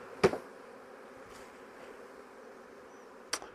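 Faint, low buzzing of honeybees hovering near a hive entrance, interrupted by two sharp knocks, one at the start and one near the end.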